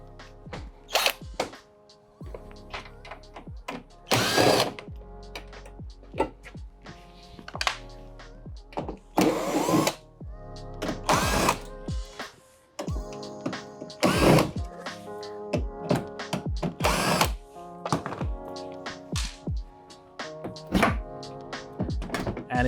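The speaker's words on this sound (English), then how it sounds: "Just remove those with your Torx bits." A power drill with a Torx bit works screws out of an Electrolux Zanussi dryer panel. Several short, loud whirring bursts are spaced a few seconds apart, with clicks and clunks of handling in between.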